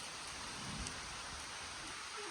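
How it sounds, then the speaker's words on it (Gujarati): Heavy unseasonal rain pours down in a dense, constant roar with rising wind, a low rumble underneath and no voices. "વરસાદ ફૂલ વધ્યો ને પવન વધ્યો"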